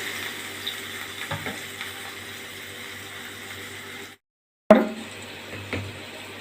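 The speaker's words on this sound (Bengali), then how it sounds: "এবার আমি এর ভিতর ঝোল দিয়ে দিচ্ছি।" Broth pours into a pan of frying koi fish curry, giving a soft, steady sizzle with light stirring clatter, a brief gap of silence, then a louder splash and renewed bubbling.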